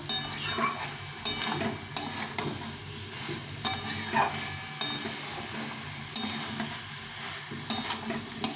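Potatoes stir-fried into a vegetarian vegetable curry in a pan, a soft sizzle under repeated scraping and clinking of a spatula against metal in an irregular rhythm, fairly close and moderately quiet.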